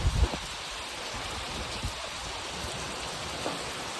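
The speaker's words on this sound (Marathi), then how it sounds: "खतरनाक पाऊस आलाय" Steady rain pours down outdoors on farmland in a continuous, even wash of noise, with a couple of brief low thumps near the start and no voices.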